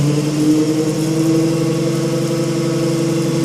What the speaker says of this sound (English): the motor is not under any kind of speed control, it's just running on 24 volts DC at the minute